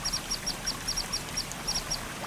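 Repeated short duck-like quacks from birds in the video game Long Gone Days, coming in rhythmic pairs and bursts over a low steady background, fairly clear and close.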